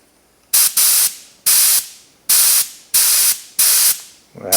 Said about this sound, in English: Well, plug it into the air, see what it does then. Yeah, let's see what we can see. Wow, sprays a lot.